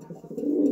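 A golden highflyer pigeon gives a short, low, soft coo up close, a brief throaty murmur rising slightly in loudness.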